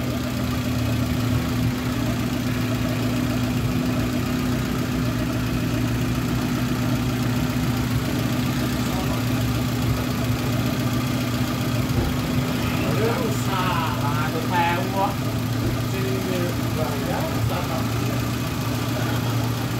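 A car engine, damaged by flooding, idles steadily during an idle check with a constant low hum and droning tone, while people talk faintly in the background.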